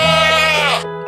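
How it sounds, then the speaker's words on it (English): A goat gives one loud, close, wavering bleat that lasts about a second and then stops. "G is for goat"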